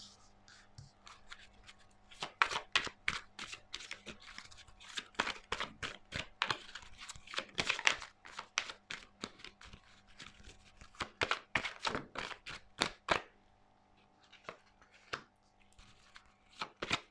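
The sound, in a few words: tarot cards being shuffled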